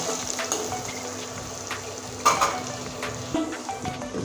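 Ground spice paste stir-fried in a pan for a Bengali-style chicken masala: a soft frying hiss broken by scraping spatula strokes and a few light clinks of the pot, with no voices.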